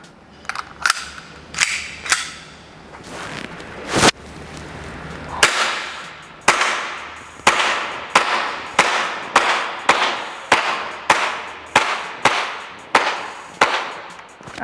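A gel blaster pistol fires gel balls, giving a loud, close series of sharp snapping pops. About a dozen and a half shots come at first in uneven bursts, then settle into a fairly regular rapid rhythm, each with a short ringing decay.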